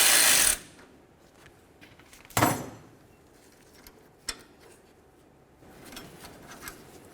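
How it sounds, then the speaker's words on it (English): Ratchet working the pinch bolts on a tie rod adjusting sleeve of a 1988–2000 Chevy C/K1500, with short bursts of clicking and metallic clanks separated by quiet pauses, close up. "I'm going to have to loosen up my 2 pinch bolts right along there"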